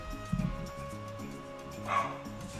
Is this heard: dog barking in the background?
yes